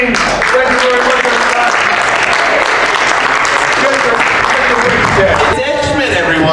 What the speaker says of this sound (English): I never got so much applause for this trick in my life.